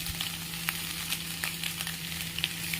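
Fried chowmein noodles stirred with sugar and fried spices in a pan, a quiet even sizzle broken by light clicks and taps of the spatula, with a faint constant hum beneath.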